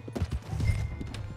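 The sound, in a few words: horse hooves in Red Dead Redemption 2 video game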